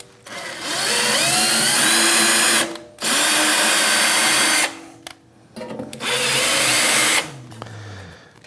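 A power drill drives a tap into holes in an electronics enclosure for a lathe VFD, running in three loud sustained bursts of a few seconds each with short pauses between.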